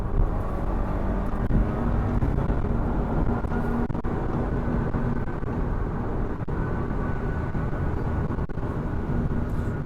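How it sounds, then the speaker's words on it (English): Steady, loud engine and road drone from a 2017 Audi A4 quattro accelerating to pass, heard from inside the cabin as a continuous rumble without distinct gear breaks. "Passes nicely. It grabs the right gear and launches forward."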